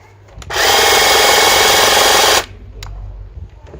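The blades of a SWIFT battery-powered garden tool from a 40V to 120V range run at close range. They make a loud, steady whirring buzz for about two seconds, then cut off abruptly.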